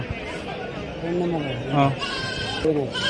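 Several short goat cries overlap in quick succession at the weekly Kadiri goat market, some low and hoarse, some higher and thinner, heard fairly near above a background murmur.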